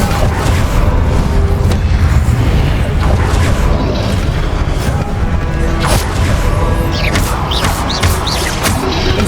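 Repeated Incendio fire spells in the Hogwarts Legacy video game, heard as loud booming blasts and crashes amid dense, continuous combat noise, with shouting voices mixed throughout.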